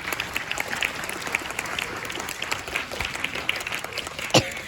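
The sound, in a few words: audience applause for the organizers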